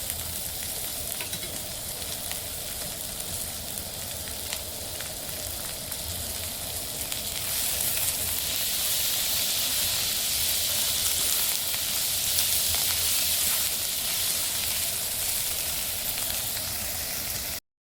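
Tomatoes frying in a pan for a Vidarbha-style sandge vegetable curry, a steady close sizzle with crackling hiss that grows louder partway through, no voices.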